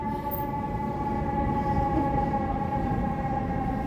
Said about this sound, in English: Welcome to the land of sirens here.